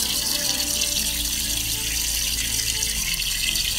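Water runs steadily from a tap at a street-side spot, a continuous close hiss and splash that holds without pause from start to finish.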